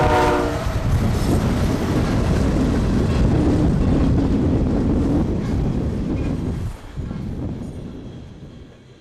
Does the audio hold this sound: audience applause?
no